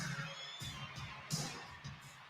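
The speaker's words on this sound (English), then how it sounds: "That's a crowd." A stadium crowd cheers faintly and far off, a hazy roar that swells in a few short bursts, with no clear voices on top.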